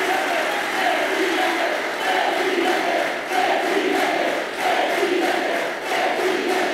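Large crowd cheering for Javier Milei, a loud rhythmic chant that rises and falls in repeated waves, voices massed together in a pulsing cadence roughly every second.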